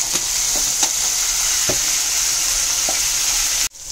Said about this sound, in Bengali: ভালো করে নিয়ে ভালো করে এবার ভাজা ভাজা করে নেব।